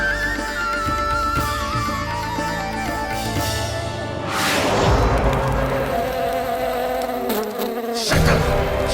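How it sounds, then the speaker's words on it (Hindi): A housefly buzzes continuously and loudly close by, droning steadily for several seconds with shifting pitch, mixed with other busy background sound and no talking. "लगता है मक्खी थक गई है"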